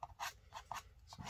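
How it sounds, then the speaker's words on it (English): A plastic card scrapes across wet watercolor paint on paper in a loose mountain landscape painting, giving four or five short, close rasping strokes in an uneven rhythm, quiet and with no one talking. "Just kind of using the card to scrape"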